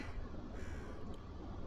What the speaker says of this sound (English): The raven keeps pecking at it.